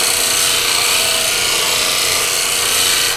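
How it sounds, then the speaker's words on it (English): A tool is sharpened against a spinning grinding wheel. It gives a continuous, loud, harsh abrasive hiss that holds steady for about three seconds and then fades slightly at the end, with no speech. "you see sparks coming over the top"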